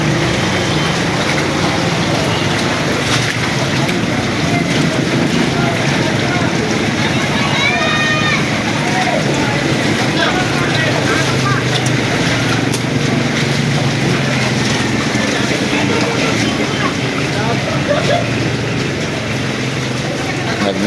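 Vehicles ploughing through deep flood water after heavy rain in the Philippines, a continuous rumbling engine and churning water noise close by, steady for the whole stretch with faint voices mixed in.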